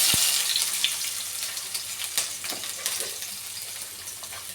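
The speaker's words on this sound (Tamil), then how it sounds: "வெட்டி வச்சிருக்கிற வெங்காயத்தை சேர்த்துப்போம்" Chopped onions frying in a tempering of mustard seeds, cumin and pepper, giving a steady close hissing sizzle that slowly fades, with a few faint scrapes and ticks from stirring.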